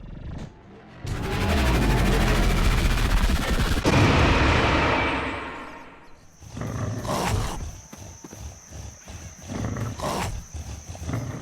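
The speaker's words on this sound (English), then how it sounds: "If the Grenadier enemy dies, there is an instruction to play the death event as well as an impact event" A loud, roaring burst of noise with heavy impacts fades out, followed by a flurry of crunchy hits and metallic clanks, as a Grenadier enemy dies in a Unity 3D Game Kit sound redesign.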